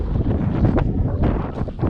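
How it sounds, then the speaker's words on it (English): Strong gusting wind blasts across the microphone at a gold panning reserve outdoors, giving uneven, rumbling buffets that rise and fall. "It is super windy out here today."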